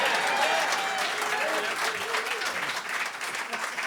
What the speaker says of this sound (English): Oh, we appreciate your hand applause.